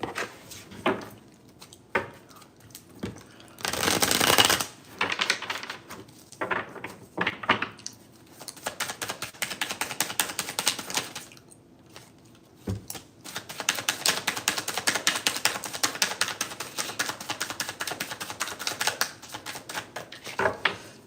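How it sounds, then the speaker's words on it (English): Tarot cards being shuffled and riffled, a dry papery rustle and flutter in uneven bursts, fairly close and moderately quiet, with short pauses and no talking. "we're going to go ahead and do 6 tarot cards"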